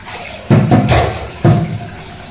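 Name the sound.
washing lentils (dal) under running tap water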